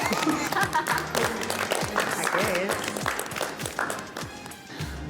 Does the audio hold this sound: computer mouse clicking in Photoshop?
no